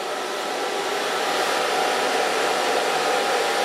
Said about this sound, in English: Now I'm going to dry this with a diffuser